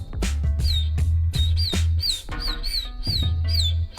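A violin mimics a chick's peeping with short, high, sliding squeaks repeated in quick bursts, while a steady low rhythmic beat runs underneath throughout.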